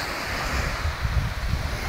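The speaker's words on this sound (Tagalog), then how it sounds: "Kung nakikita nyo po ay merong lumalabas na tubig dun sa gilid pag umaalon" Ocean surf rolls in continuously at a rocky point, with water spurting out at the side as the waves break; steady wind noise buffets the microphone, and the low rumble surges in several swells over a loud, unbroken wash.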